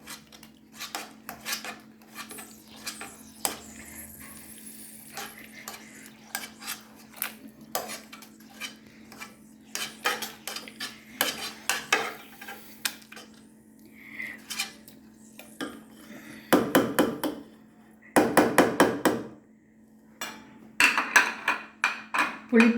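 Cooked eggplant is mashed in a metal pot for kathirikkai gosumalli, with close, repeated scraping and clanking of a utensil against the pot in uneven bursts and brief pauses.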